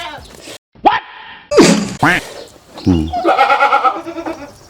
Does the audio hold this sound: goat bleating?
yes